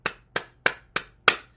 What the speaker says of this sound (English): All right, clap your hands